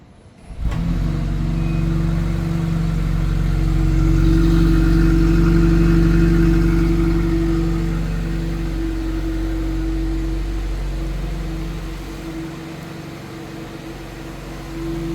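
A 2026 BMW X3 30 starts remotely with a sudden onset, then settles into a steady, close engine idle hum that swells slightly and eases toward the end, with no voices.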